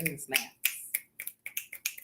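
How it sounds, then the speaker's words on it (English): Crisp finger snaps ring out nearby at an uneven pace, about nine in all, with a bit of speech woven in early on. "Finger snaps."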